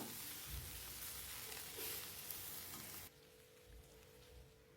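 Thinly sliced okra fries and is mixed in a pan, making a continuous close sizzle with stirring noises that drops to a quieter hiss partway through.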